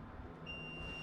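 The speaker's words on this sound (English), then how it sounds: "Sorry about the beeping. That's my incubator." An incubator sounds a steady high-pitched electronic tone over the low hum of a hobby workroom used for model-kit painting. The tone starts partway through and holds on until the end.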